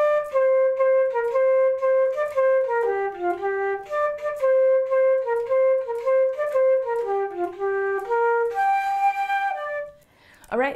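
A solo flute plays a melody from a song as a run of clear, closely miked stepwise notes in a steady rhythm, with a brief noisy burst at the end.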